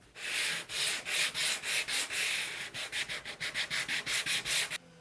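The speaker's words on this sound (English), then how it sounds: "all I'll do now is do a little bit of sanding" Rhythmic back-and-forth strokes of hand sanding on wood before staining, about twenty rasping passes that grow quicker and shorter toward the end.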